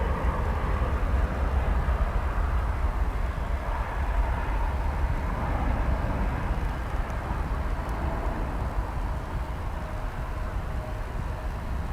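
A long-haul airliner bound for Korea takes off on a runway at DFW Airport, heard at a distance as a continuous low engine roar with broadband rumble, steady and sustained with no talking.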